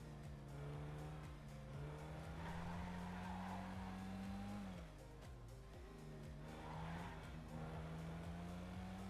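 A car driving in GTA role-play, its engine droning steadily close up, the pitch climbing, dipping briefly, then rising again, with tire noise underneath and no talk.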